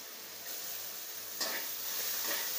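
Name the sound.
sautéing turmeric spice mixture in pan for vada pav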